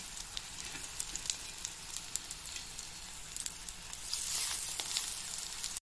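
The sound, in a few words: jute leaf fritters frying in a wok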